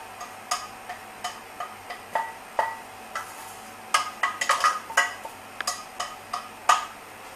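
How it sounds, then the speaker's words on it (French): A spatula stirs julienned seasonal vegetables sweating in a pan, making light, irregular clicks and taps against the metal over a quiet background. "avec une spatule, on va tourner, on va les faire suer."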